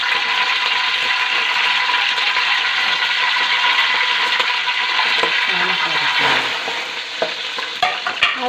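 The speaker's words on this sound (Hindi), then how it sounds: "हमने एक देचकी के अंदर घी को गर्म हो चुका है। इसके अंदर हम 3 से 4 दाने सब्ज़ इलायची के डालेंगे" Green cardamom pods frying in hot ghee in a deep cooking pot, giving a loud, continuous sizzle with occasional stirring clinks and scrapes near the end.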